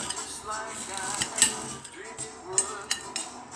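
A knife cuts up an onion on a cutting board in a home kitchen, several sharp taps and chops against the board, close and fairly loud, with no talking.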